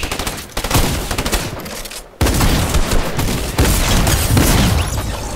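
Loud bursts of rapid gunfire during a fight in the video game Fortnite, with repeated volleys broken by a brief pause before the shooting resumes.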